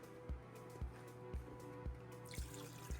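Water is dumped from the clear ice mold of a Klaris Clear Bar Ice Maker into a sink: a steady wet wash with soft, regular thuds about every half second and a brief splashing rush near the end.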